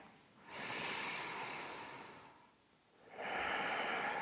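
Slow, deep breaths taken during a beginner slow-flow yoga session: two long, smooth airy exhalations or inhalations, close and soft, separated by a brief quiet pause, with no talking.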